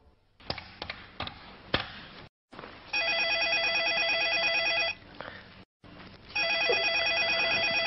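A telephone rings in a repeated double-burst electronic ring pattern, clear and fairly loud, following a few sharp taps or clicks at the start.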